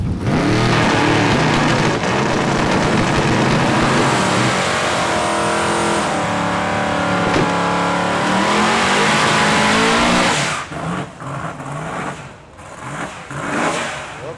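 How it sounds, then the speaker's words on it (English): A 1969 Ford Mustang Pro Charger with 317 cubic inches and a nitrous-fed 1969 Chevrolet Chevelle 509 drag racing at a dragway, a loud sustained engine roar that cuts off after about ten seconds, leaving fainter engine noise. "the 69 Ford Mustang Pro Charge 317 cubic inch in the right-hand lane versus John Mayer in the 69 Chevrolet Chevel"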